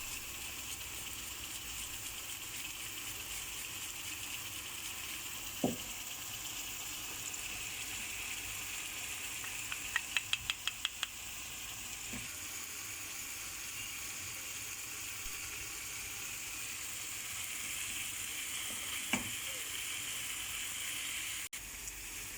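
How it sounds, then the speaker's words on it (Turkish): Tomatoes and tomato paste sauté in a pan for a homemade İskender sauce, making a steady, even hiss throughout with a few faint clicks and no talking. "Bir yemek kaşığı domates salçamızı da koyup güzelce domateslerimizle birlikte kavuruyoruz."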